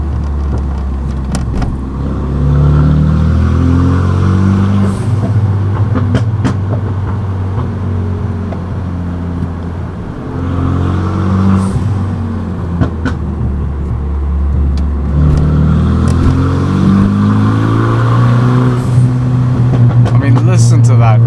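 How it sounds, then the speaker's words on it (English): Renault Megane RS exhaust droning while driving, a deep engine note rising and falling through several gear changes, loud and close inside the car with a window lowered. "Listen to that exhaust note."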